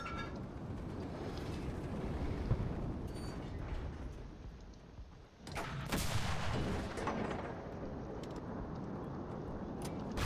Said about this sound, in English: Who the fuck was shooting at me?